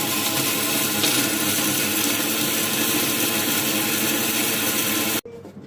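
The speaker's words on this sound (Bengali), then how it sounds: "আগে আমি শুটকি ব্লেন্ডার হবো, শুটকি আর শুকনো মরিচ এগুলো আমার রেডি।" A blender grinds dried fish and dried chili in a steady, loud, continuous whir that runs for several seconds before cutting off abruptly into a quieter room.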